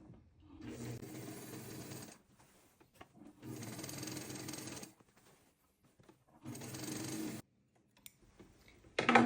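A sewing machine stitches fabric a quarter inch from the edge, running from a placket toward a side seam on a garment, in three close, steady bursts of rapid stitching separated by short pauses.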